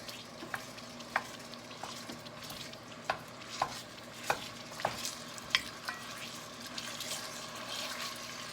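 Soft sizzling of sausage frying in oil, with scattered sharp scrapes and taps of a utensil breaking it up, fairly quiet and close.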